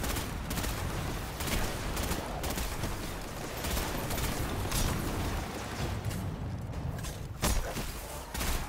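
Rapid gunfire and blasts crackle through a Destiny 2 firefight, with dense repeated shots, including shotgun fire, layered over constant game noise and effects, no clear voices.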